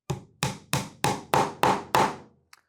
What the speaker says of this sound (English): I'm going to hold it over one of the holes in the slide and tap it in with my hammer.